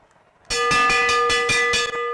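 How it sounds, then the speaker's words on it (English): Lap bell rung at a track cycling race, a bright, steady metallic ringing with about seven rapid strokes that starts abruptly and carries on loud and close. "Once you hear that bell."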